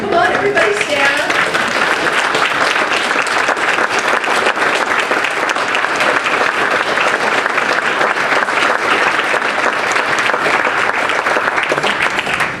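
A large audience at a civic gathering gives a long, sustained round of applause for local officials, a loud continuous roar of clapping with scattered voices mixed in throughout.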